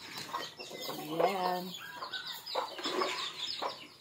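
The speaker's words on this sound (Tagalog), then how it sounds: "ito naman ang ating mga alagang mga manok" Chickens cluck and squawk nearby in short, uneven bursts, one call rising sharply, with a brief spoken word mixed in.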